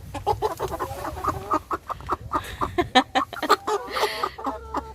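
Chickens cluck steadily in short, choppy bursts close by, with a few louder squawks and overlapping calls from several birds.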